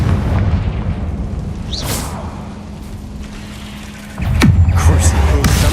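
Fiery blast spell going off in the Hogwarts Legacy video game: a whooshing cast followed by a sharp burst at about four seconds, then a deeper rumbling boom that lingers over a continuous low game background.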